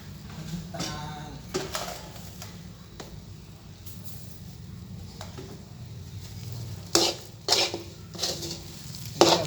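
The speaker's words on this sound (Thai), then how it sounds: "ก็จะคนไปเรื่อย ๆนะครับ อาจจะออกแรงนิดนึง เราจะผัดไปป" Taro being stirred and scraped in a pan with coconut milk, a steady soft scraping broken by sharper utensil clinks against the pan that grow louder near the end.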